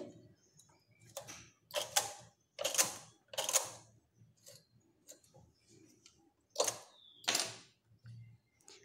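Needles on a knitting machine are pushed forward in a series of separate scraping, clacking strokes, roughly eight of them in irregular bursts, close by and fairly quiet, with no talking.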